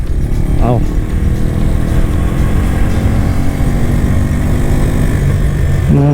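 An FKM Agimat 175 motorcycle engine runs loud and close during a test ride, a continuous droning rumble with a faint pitch sweep near the start, and a voice likely talking over it.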